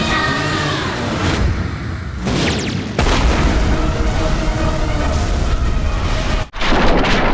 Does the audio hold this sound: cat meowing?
no